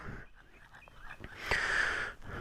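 A dog pants and wheezes heavily outdoors after a walk, with raspy breaths building louder toward the end, close and unaccompanied by talk.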